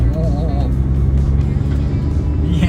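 A Nissan Skyline R34 GT-R sports car engine with GT-SS turbos idles and revs with a deep rumbling drone, while people talk over it close by.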